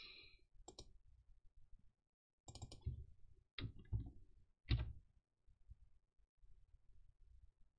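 Computer mouse clicks in a wrestling management game: a few sharp, quiet clicks spread apart, alone in a hushed room.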